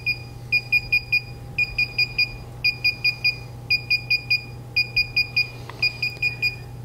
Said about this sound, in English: The beeping sound will stop